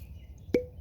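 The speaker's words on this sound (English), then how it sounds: "nice cork pop" A cork pops once from a bottle of Aberlour 12 year old single malt whisky, a sharp close plop with a brief ringing tail against a quiet room.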